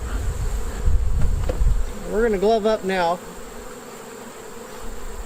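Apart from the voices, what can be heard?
honey bees buzzing around an open hive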